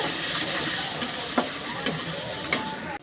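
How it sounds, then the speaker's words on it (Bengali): Chicken with turmeric powder and salt being stir-fried in a pan for chicken rezala, a steady close sizzle with a few sharp scraping stir strokes, no talking. "আর দেবো হলুদের গুঁড়ো পরিমাণ মতন। দিয়ে আবারও ভালোভাবে কষিয়ে নেব।"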